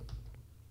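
Fast typing on a computer keyboard while entering database settings for a WordPress setup, a few quiet, close keystroke clicks over a steady low background hum.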